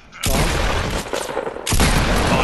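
Heavy booming gunshots in a shooter video game, including sniper fire, two loud blasts with long rumbling tails, close and dominant.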